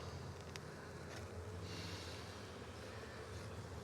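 A swarm of honey bees buzzes during a swarm catch, giving a continuous dense hum that stays fairly close and even, with a few brief louder passes.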